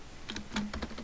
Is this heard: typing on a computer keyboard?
yes